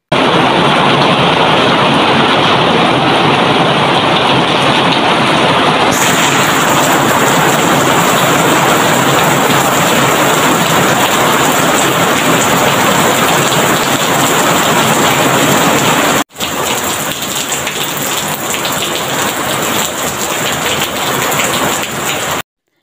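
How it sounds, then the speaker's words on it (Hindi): Very heavy rain pours down steadily, a loud, dense hiss of downpour that stays constant throughout with no voices. "बारिश बड़ी अच्छी सी बड़ी ज़बरदस्त बहुत तेज़ बारिश थी"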